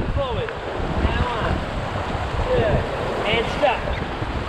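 Class 4 white water rapids on the Tully River give a continuous rushing roar of turbulent water with wind buffeting, steady and close, and faint voices come through underneath.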